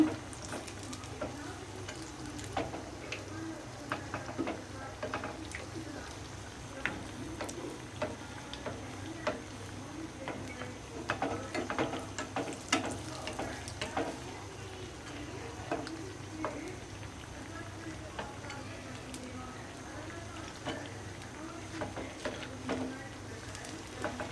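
Potato chops frying in oil, a soft continuous sizzle with light ticking pops and occasional stirring sounds, fairly quiet and close.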